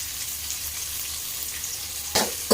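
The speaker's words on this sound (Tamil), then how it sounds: "வெங்காயம் நல்லா வதங்கட்டும்" Chopped onions sautéing in oil with a little rock salt in a home kitchen pan, a steady close sizzle running throughout, with a brief louder burst of frying or stirring near the end and no talk.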